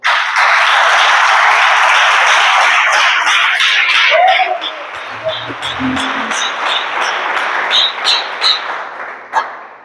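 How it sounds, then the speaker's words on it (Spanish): Church congregation applauding loudly for about four seconds, then the clapping thins into scattered claps with a voice and other sounds beneath. "si usted puede darle un aplauso al Señor"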